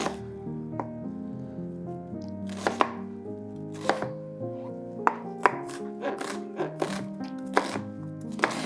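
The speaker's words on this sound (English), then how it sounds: "So I have my little tiny food processor here, and I'm just gonna chunk up my onion." A small food processor chops onion in short bursts: a steady motor whine with stepped pitch changes, broken by sharp chopping knocks and clatters at irregular intervals, close and fairly loud.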